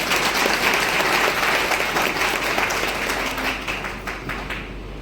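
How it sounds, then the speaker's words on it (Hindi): An indoor crowd at a state employees' federation meeting in Bareilly applauds to welcome a speaker, a loud, dense burst of sustained clapping that slowly tapers off over five seconds. "जोरदार तालियों से उनका स्वागत किया जाए।"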